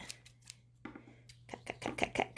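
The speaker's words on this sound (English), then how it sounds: "So again, I'm going to take my scissors. I'm going to cut." Scissors snip through yarn while making a God's eye camp craft, giving several sharp crisp cuts with short gaps, then a quicker cluster of snips and handling rustle near the end, close and quiet.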